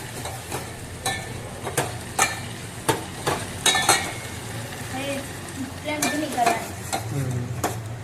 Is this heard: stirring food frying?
yes